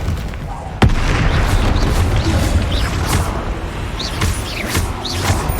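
The Bombarda blasting spell in Hogwarts Legacy goes off with a sudden sharp crack, then a sustained rumbling roar under swirling magical effects and scattered chimes.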